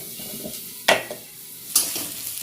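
Vegetable fry cooking in a pan on low heat, a soft low sizzle broken by two sharp scraping stirs of a spatula, close and quiet with no talk.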